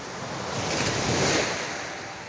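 Sea waves roll in a steady, loud wash of surf, swelling toward the middle and easing off, with wind buffeting the microphone and no talk.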